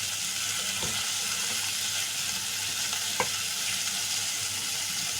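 Spices sizzle in hot oil in a pan, including coriander powder, turmeric and Agri masala, frying steadily with a continuous crackle and a few soft stirring knocks.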